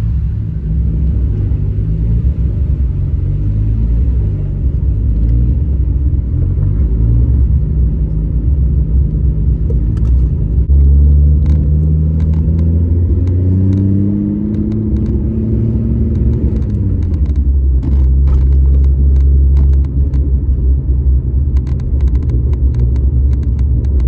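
Car engine idling steadily around 2,000 RPM after a cam and crank sensor repair, a loud continuous low rumble with a brief rise and dip in pitch midway, accompanied by faint ticking.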